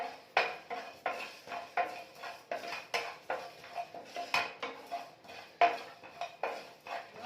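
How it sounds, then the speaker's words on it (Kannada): Whole spices such as cumin, pepper and cardamom go into a metal pan for a hotel-style bisi bele bath powder, producing a string of close, rhythmic clatters and scrapes of utensil against metal. "ಜೀರಿಗೆ ಮತ್ತು ಮೆಣಸು ಹಾಕ್ತಾ ಇದ್ದೀನಿ ಇದ್ರ ಜೊತೆ ಏಲಕ್ಕಿನೂ ಆ್ಯಡ್ ಮಾಡ್ತಾಯಿದ್ದೀನಿ"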